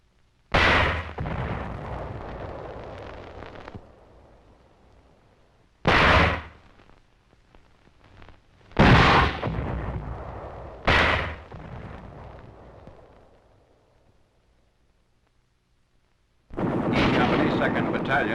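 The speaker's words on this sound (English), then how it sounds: "Enemy troops in a rice paddy are subjected to the mortar fire." 4.2 mortar fire on enemy troops in a rice paddy in wartime combat footage: four heavy booming blasts spaced several seconds apart, each trailing off in a rumble, followed by a sustained loud roar.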